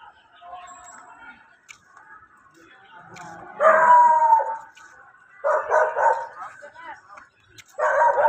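Several dogs bark in loud bursts during a morning walk, with a long howling bark near the middle and two more clustered barking bouts later, over a quieter background.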